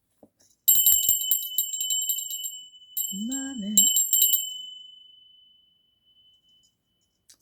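A bell rung once, ringing out clear and bright with a long ringing tail, and a person speaks briefly partway through while it sounds.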